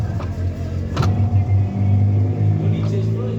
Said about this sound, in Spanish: ya me está girando el motor